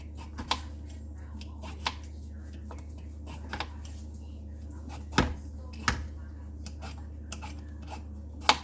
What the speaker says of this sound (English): With the peeler, it seems to be doing fine.